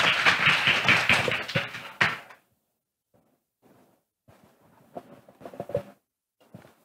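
An audience at a seminar on healthy living with plant-based solutions claps in a dense, lively burst for about two seconds, then it cuts off. A few scattered faint taps and soft knocks follow.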